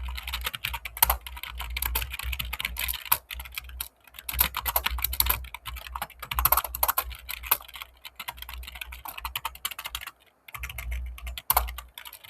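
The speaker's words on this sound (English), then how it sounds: "I'm gonna write down the basic code first." Steady, rapid typing on a computer keyboard while writing basic dynamic programming code, with dense clicking keystrokes in bursts broken by a few short pauses, close and fairly loud, with no talking.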